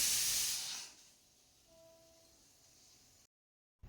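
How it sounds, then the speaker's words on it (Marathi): A pressure cooker on a home stove vents a burst of loud, hissing steam that fades within a second, leaving a quiet background with a faint tonal whine before the sound cuts off. "आणि दुसरीकडे कुकरच्या शिट्ट्यासुद्धा चालू झालेल्या आहेत."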